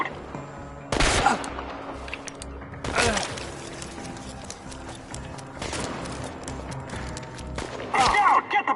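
Gunfire in Chernobylite, with sharp bursts of shots in clusters separated by quieter stretches, the loudest volleys close by near the end.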